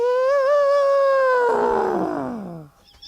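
A voice imitates an elephant, a loud drawn-out trumpeting wail that wavers in pitch and then slides downward for about three seconds before cutting off.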